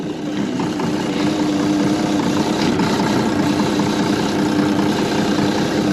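A heavy machine engine idles steadily nearby with minor exhaust leaks, a constant low rumble and vibration running unbroken throughout.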